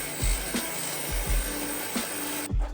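A power saw cuts stainless steel exhaust pie cuts for a VW MK2 Scirocco 16v, giving a continuous grinding, rasping drone with rhythmic strokes that stops abruptly near the end.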